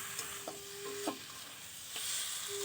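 Pangas fish pieces sauté in masala in a pan, making a soft, steady sizzle punctuated by a few short clicks and scrapes of stirring, getting slightly brighter near the end.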